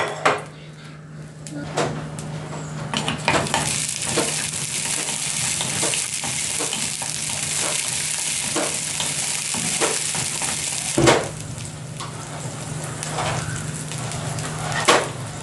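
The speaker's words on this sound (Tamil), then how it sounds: "ஒரு கரண்டி ஆயில் கொக்கனட் ஆயில் ஊற்றிக்கிறேன் இதுக்கு வந்து நாங்கள் ஒரு ரெண்டு சின்ன வெங்காயம் சேர்த்துக்கொள்வோம்" Small shallots sizzling in a ladle of coconut oil for Arabian chicken majboos, with a continuous frying hiss broken by clinks and scrapes of a spoon stirring in the pan.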